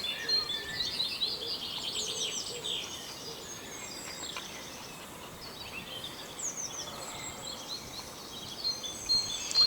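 Birds chirp and sing intermittently in the distance over a quiet outdoor background, with several overlapping high calls.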